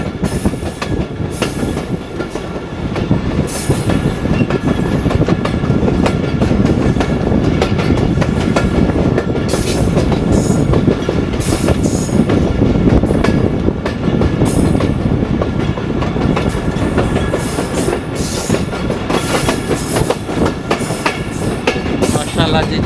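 Khushhal Khan Khattak 19 Up passenger train on its inaugural run pulls into a small railway station, a loud steady rumble of wheels with clickety-clack rhythm running throughout, close by.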